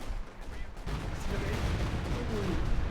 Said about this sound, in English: Stuka barrage.